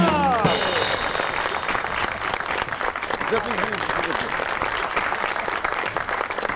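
Enthusiastic audience applause welcomes Ustad Ghulam Ali Khan onto a comedy talk show stage, a dense, steady wash of clapping sustained throughout, with a voice briefly audible at the start.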